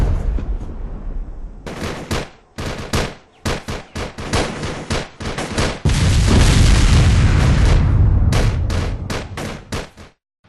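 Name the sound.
indirect artillery fire in battle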